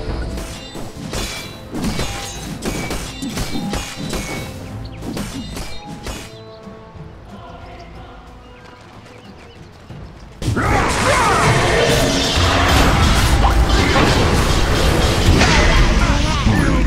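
Game-world combat in a Dota 2 match as a tower is attacked: dense thumps, crashes and impacts, which ease off briefly midway and then return as a loud, steady clash. Speech-like sound is mixed in with the fighting.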